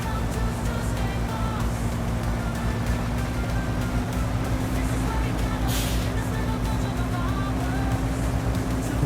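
Heavy Bulldog SX81B Golem truck in Snowrunner grinding uphill in high gear, a loud steady low engine drone with a constant whine, unbroken throughout with a brief hiss midway.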